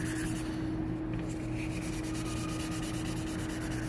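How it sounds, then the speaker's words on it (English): Steady, continuous sanding of car paint to cut down mineral deposit spots, a close, even rubbing hiss with a slight back-and-forth texture and no talking. "start sanding it in one direction and then hit it in another direction"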